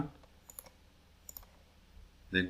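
Computer mouse clicks, a few faint, sharp, widely spaced clicks in a quiet room, followed by a brief louder bump at the end.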